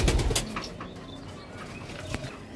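A racer pigeon gives low cooing sounds amid brief wing flutters and rustling near the start, with a sharp tap partway through; fairly close and quiet, no talk.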